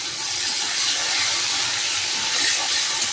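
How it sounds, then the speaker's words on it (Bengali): Yardlong beans fry in hot oil with a little salt, giving a steady, even hiss that stays loud and close without a break. "প্রথমে আমি বরবটিগুলো ভেজে তুলে নেব।"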